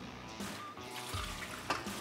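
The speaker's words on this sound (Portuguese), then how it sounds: "vamos tirar agora essa água daqui." Water trickles and drips as it is drained off marinated potatoes in a kitchen, a soft, steady close pour with a brief splash near the end.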